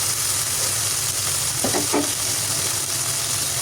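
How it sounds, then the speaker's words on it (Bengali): Onion, green chilies and ginger-garlic paste sizzle steadily in hot oil, a constant close frying hiss with a brief stirring scrape partway through; no talking. "তেলের মধ্যে পেঁয়াজ কাঁচামরিচ ভেজে দিয়ে দিলাম আদা রসুনের পেস্ট"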